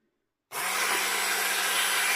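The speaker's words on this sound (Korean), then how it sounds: "이제 도깨비 방망이로 갈아줍니다." A hand blender switches on abruptly after a moment of silence and runs steadily, grinding fermented sweet rice grains in liquid with a loud, constant whirring buzz.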